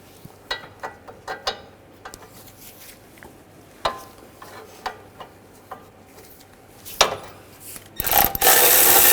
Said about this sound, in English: take these bolts out, use a 18mm socket